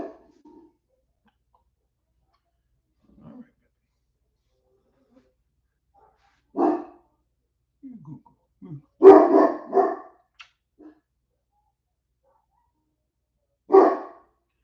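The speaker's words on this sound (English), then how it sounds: "Dogs are outside howling, acting stupid." Dogs outdoors let out a few scattered barks and short howl-like yelps between long quiet gaps, the loudest burst near the middle and one more bark at the end.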